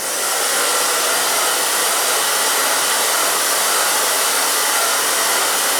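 A hair dryer blowing continuously at close range while hair is styled for bangs, a loud, steady broadband whoosh with no talk.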